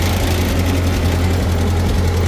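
A Ford 8N tractor engine runs at low revs while driving down a road in fourth gear, a loud, close, continuous low chugging rumble with a steady pulsing knock and rattling vibration, heard alone without talk.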